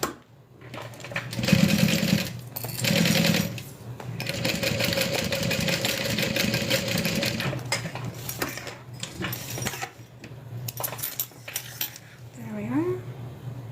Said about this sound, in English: we're going to go ahead and sew that in place